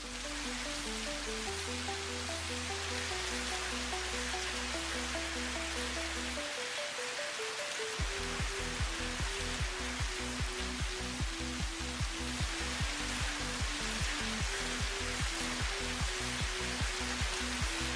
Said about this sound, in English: This is raining cats and dogs, by the way.